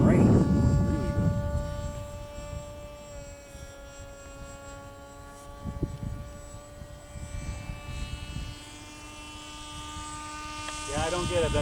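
An electric radio-controlled model airplane motor runs at half throttle as a steady, droning whine with sustained harmonic tones. It sounds moderately distant over an outdoor flying-field background, with brief rustles and bumps nearby.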